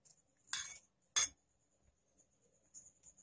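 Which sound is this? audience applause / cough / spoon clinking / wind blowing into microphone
spoon clinking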